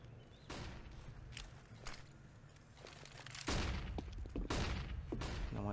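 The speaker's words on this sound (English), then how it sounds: "Flashbangs in towards drop down." Flashbangs and gunfire erupt in a Counter-Strike: Global Offensive pro match on the Cobblestone map, with bursts of shots and thuds building into a denser, louder stretch of firing partway through, set against steady ambient noise.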